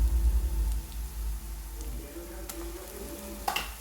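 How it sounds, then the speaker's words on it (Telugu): Ginger garlic paste sizzling and frying in a pan as it is stirred, a steady crackling hiss with a few scraping stir sounds and a sharp clink near the end. "బాగా కలపాలి."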